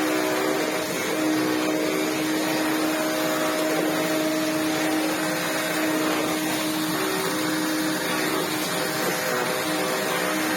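A vacuum cleaner runs steadily close by with a constant whooshing roar and a high whine, and there is no talking.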